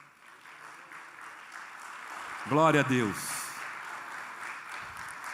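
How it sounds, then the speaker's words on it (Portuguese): A church congregation claps in a steady, diffuse patter across the hall while a voice calls out a short praise over it. "Dá para aplaudir esse Deus Todo-Poderoso?"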